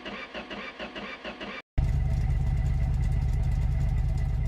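A home-built car's engine cranks with a rhythmic starter churn, then abruptly fires and settles into a loud, steady, close-up running roar that continues alone.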